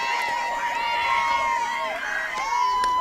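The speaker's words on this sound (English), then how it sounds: "Big cheer from the home crowd here on that strike call." Home crowd at a high school softball game cheering a strike call, a bright burst of shouts and high-pitched voices rising and lingering over the field, with scattered yelling and a commentator's voice underneath.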